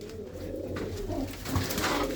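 Competition-winning flying pigeons coo in low, throaty rolling calls, fairly close and continuous, with a shuffling background and no talking.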